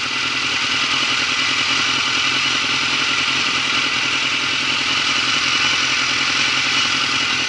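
Motorcycle engine idling steadily in first gear while waiting to pull away on a training route, a constant close mechanical hum with light clatter and no talking.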